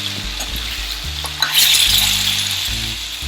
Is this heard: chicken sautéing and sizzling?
yes